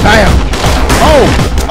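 Gunfire in a video game right after a reload: a loud burst of shots mixed with excited talking over the top.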